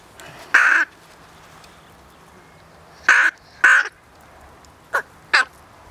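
A rook chick caws in short, loud bursts while being fed, five harsh calls in two groups, close and alone with no talk.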